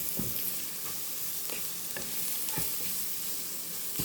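Chilies and tomatoes fry in a small pan, making a continuous close sizzle. A utensil scrapes and stirs against the pan at regular intervals, producing soft knocks about every half second.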